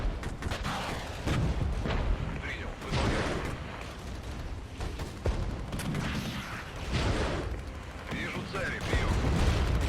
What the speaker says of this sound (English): You can see these rockets coming in from the infantry as well there.